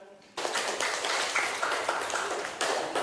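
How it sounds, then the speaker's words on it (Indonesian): Applause from an audience at an educational event, a dense steady wash of many hands clapping that starts abruptly after a brief quiet moment and continues loudly to the end. "Beri tepuk tangan."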